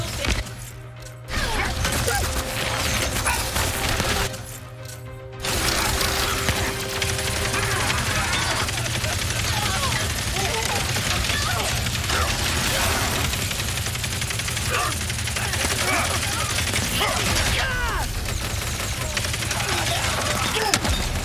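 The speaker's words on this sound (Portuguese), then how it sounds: "Nossa, é muito explosão da hora" Explosions and rapid gunfire erupt in the video game Ratchet and Clank Rift Apart on PS5, a dense, loud wall of blasts, mechanical clatter and shots that continues with barely a break, with brief drop-outs early on.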